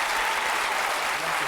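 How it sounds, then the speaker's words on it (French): A television game show studio audience claps loudly and steadily throughout, a dense continuous burst of applause with no pauses. "On peut quand même applaudir très fort."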